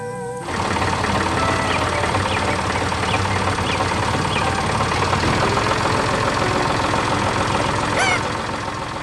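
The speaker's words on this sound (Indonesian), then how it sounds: "Dengan suara mesin yang tenang, traktor itu menggerakkan tanah dan menanam kehidupan baru." A tractor engine runs steadily nearby, a continuous rumbling drone with a faint rhythmic knock, starting abruptly and continuing to the end.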